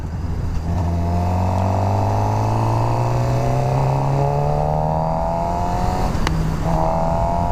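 A 2017 Suzuki GSX-R 600 sport bike accelerates hard in first gear, its engine howl climbing steadily in pitch for several seconds, then briefly dropping at a quick throttle break before rising again, loud and close with wind rush underneath.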